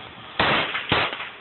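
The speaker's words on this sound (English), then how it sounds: "Three firecrackers." Firecrackers popping nearby, two loud sharp bursts about half a second apart, each trailing into a brief rumbling decay over faint background noise.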